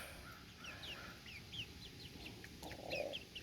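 Several chickens outside a coop, a small flock of hens, give scattered clucks and short calls over steady outdoor background noise, with one louder nearby call toward the end.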